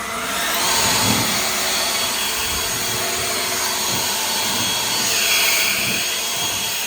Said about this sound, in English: if you guys got a blower and you make your cuts outside like you should, not inside, go ahead and blow off your sawdust